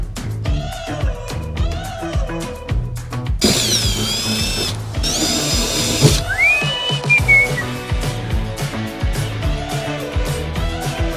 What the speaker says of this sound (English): now let's drill this bad boy out.